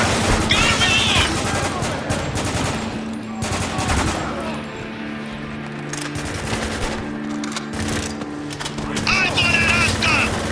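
Rapid gunfire and shotgun blasts in the Spec Ops: Eternal Penance shooter, dense continuous firing throughout with shouted callouts and voices talking over the combat.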